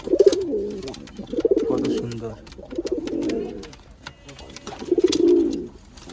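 Soft, repeated pigeon coos in low rolling phrases, close by, with a person speaking briefly between them.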